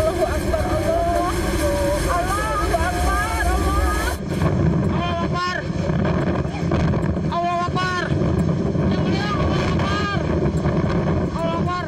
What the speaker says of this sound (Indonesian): Detik-detik angin puting beliung yang menerjang kawasan Jalan A.H. Nasution, Ujung Berung, Kota Bandung terekam kamera warga